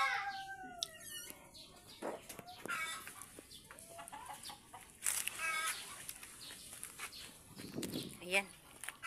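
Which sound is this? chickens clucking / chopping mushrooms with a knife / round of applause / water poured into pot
chickens clucking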